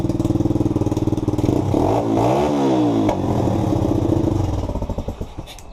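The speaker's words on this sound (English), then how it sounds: "the bike started pretty good, very loud, runs really good right now" A pit bike engine runs loud and close, a rapid pulsing idle that revs up, holds a wavering high note, then drops back and sputters toward idle, with no talking over it.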